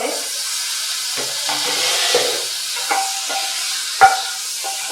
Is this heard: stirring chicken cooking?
yes